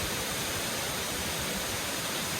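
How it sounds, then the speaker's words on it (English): A small waterfall on the Appalachian Trail pours steadily, a loud, continuous broadband rush of falling water with no pauses and no voices. "it's a cool waterfall"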